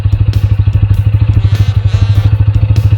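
A TVS Apache RTR 160 4V motorcycle crawls along in second gear at low speed, its engine a loud, steady, close thrum with a regular pulsing beat throughout.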